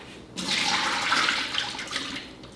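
Water poured out of a container during preparation of a homemade rosemary and aloe vera hair shampoo, a steady close splashing stream for about two seconds after a short quiet start, with no talking.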